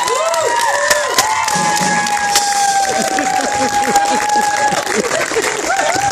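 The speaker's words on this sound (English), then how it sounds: "the whole audience is standing on their feet and clapping and screaming till it's practically deafening levels" An audience applauding and cheering at a Battle of the Bands gig, with loud, sustained clapping and shouts, some whistles, and voices calling out in the crowd.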